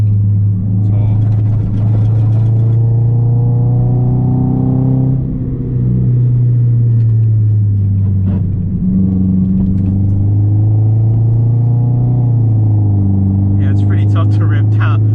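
Modified Subaru with an FB20 engine and stance setup driving on backroads, a steady loud in-cabin engine drone whose pitch climbs and falls as it accelerates and shifts, with brief rattles and a voice speaking in places.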